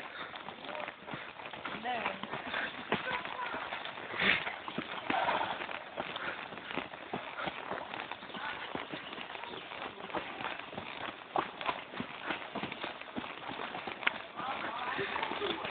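Horse hooves clip-clop steadily in a quick, even rhythm while a rider moves through a forest, close and continuous for the whole stretch, with voices talking over the hoofbeats.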